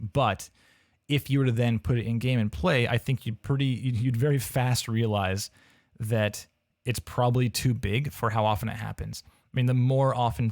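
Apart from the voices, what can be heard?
No everyday noise stands out behind the speech.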